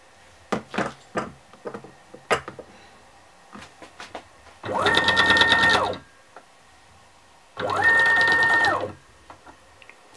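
A mini mill converted to CNC drives its X axis, which has a wobble fault. Two loud bursts of motor whine with a steady high tone, each about a second and a half, follow scattered mechanical clicks and taps.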